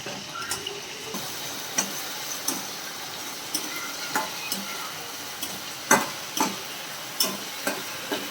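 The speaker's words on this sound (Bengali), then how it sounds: "আবারও আমি ঠিক একইভাবে আদা রসুন পেস্ট সহ পেঁয়াজ বাটাটা কষিয়ে নেব।" Onion paste with ginger-garlic paste stir-fried in a pan for doi katla, a yogurt fish curry: a soft continuous sizzle broken by irregular, close clicks and scrapes of the stirring spoon, with no talking.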